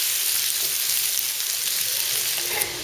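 Eggplant, zucchini, garlic and onion stir-frying in oil, a loud, continuous sizzle that stays even throughout with only faint stirring touches.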